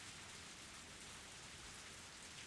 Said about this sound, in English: I heard the sound of rain pattering on the rooftop of and the raindrops jumping into puddles.